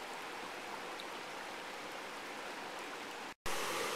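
A high mountain stream in the Swiss Alps flows in a steady, dense rush of water that sounds close and loud. The sound breaks for a moment near the end and then comes back.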